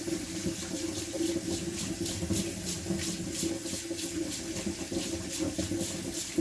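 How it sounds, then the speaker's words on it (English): Cold tap water runs steadily over hot boiled eggs in a sink, a continuous splashing hiss with slight pulsing where the stream strikes the shells and hands, no talking. "Hit them with some cold water to cool them down."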